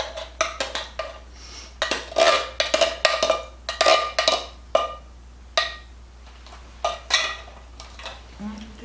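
Metal spoon stirring Wendy's-style copycat chili with drained pinto beans in a pot, giving repeated clinks and scrapes against the pot in an uneven rhythm, close and fairly clear with no talking.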